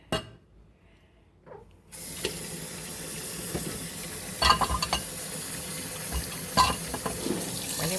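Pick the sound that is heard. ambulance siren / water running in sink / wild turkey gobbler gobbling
water running in sink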